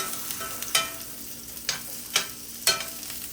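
Potatoes sizzle in hot oil in a pan for breakfast tacos, a steady soft frying hiss with a few scraping stirs at irregular intervals, close but fairly quiet and without any talk.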